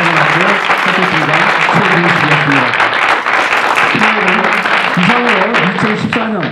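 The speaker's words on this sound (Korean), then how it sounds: "큰 박수 부탁드리겠습니다" Loud, sustained applause fills a hall at a commissioning ceremony, with a steady wash of clapping and a voice speaking over it through much of the round.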